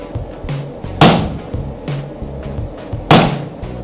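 Hammer blows on hot steel while forging a rounding hammer at an anvil, with two sharp, loud ringing strikes standing out over a background of softer, repeated thuds.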